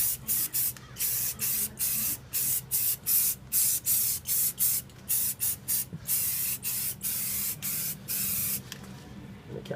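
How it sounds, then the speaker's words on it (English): Repeated short bursts of spray paint, khaki camouflage going onto an AR15 rifle, hiss in steady rhythmic strokes with brief gaps between passes, close and clear over a low background hum. "I'm going to apply the khaki again."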